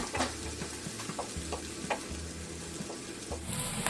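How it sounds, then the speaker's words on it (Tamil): Curry leaves and green chilies sautéing in hot oil, a continuous soft sizzle with occasional spatula stirs and light clicks against the pan, fairly quiet and close. "நம்ம சேர்த்துக்கிற கருவேப்பிலையும் பச்சை மிளகாய் சேர்த்து நல்லா எண்ணெயில் வதக்கிக்கிடுவோம்."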